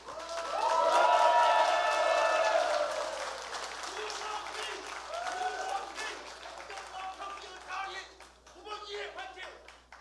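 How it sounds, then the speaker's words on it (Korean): A crowd at a political party's mayoral candidate rally applauds and cheers loudly as a speaker is introduced, then the clapping thins out while voices carry on over it. "여러분 큰 박수로 맞아주시기 바랍니다"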